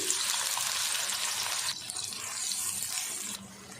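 Onions sizzle and fry steadily in half a cup of hot ghee for a pulao, a loud broadband hiss that drops in level twice, with no talk over it.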